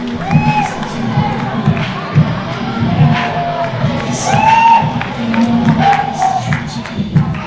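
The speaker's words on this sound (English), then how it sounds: "to hear the P.E.W fans cheering for Ivy" A crowd of fans in a live show arena cheers and whoops loudly, with shouts and high excited cries rising and falling over a continuous roar.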